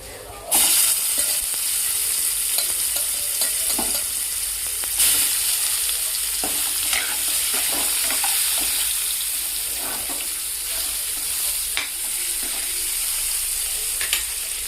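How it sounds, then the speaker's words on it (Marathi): Chicken frying in a pan gives off a continuous loud sizzle, with occasional scrapes and taps of a utensil. "सगळं चिकन त्याच्यामध्ये फ्राय करून घ्यायचं आपल्याला."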